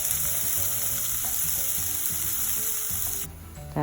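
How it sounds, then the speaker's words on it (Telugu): Chopped onions fry in hot oil for palak paneer, a loud, steady sizzle with stirring scrapes that drops off abruptly just before the end, no voices present. "తర్వాత కట్ చేసుకున్న ఆనియన్స్ని వేసి ఫ్రై చేసుకోండి"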